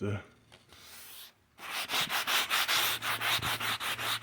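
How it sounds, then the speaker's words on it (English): Close-up wet sanding of painted roof panel on a Land Rover Discovery 2 with 400 grit sandpaper, a steady run of rhythmic back-and-forth rasping strokes, loud and near after a brief quiet start. "A little 400 grit, wet sand, and smoothing it out."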